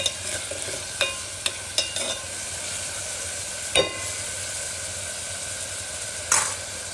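Onions frying in a pan for a ridge gourd curry, stirred steadily, give a continuous close sizzle with a scattering of sharp scrapes and clicks from the utensil.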